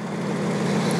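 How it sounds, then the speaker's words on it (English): Aston Martin Vantage engine running steadily, a continuous low-pitched drone that holds close and fairly loud for a second, with no clear sharp rise of a throttle blip standing out. "give the throttle a blip."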